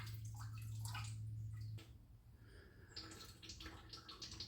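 Water draining from the water jacket of a 1972 Corvette engine block, a close, faint trickle and gurgling splash, steadier at first and then broken into irregular drips and splashes.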